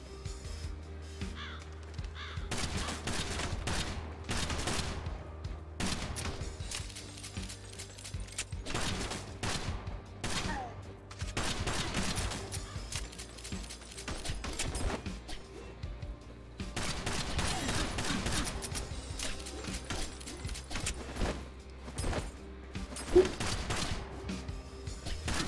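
Gunfire in the shooter game Kill the Crows, bursts of sharp rapid shots in clusters with short pauses between, loud and close, sometimes with rattling volleys and no talking.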